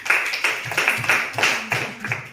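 Students in a school chemistry classroom applaud a classmate, a close, steady patter of many hands clapping for about two seconds, with no talk over it.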